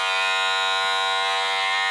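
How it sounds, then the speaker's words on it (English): A Wahl Pro Super Taper X hair clipper runs with a steady, loud electric buzz, its tone unchanging and close by, with no other sound. "I'm gonna go ahead and turn this on for y'all so y'all can hear it"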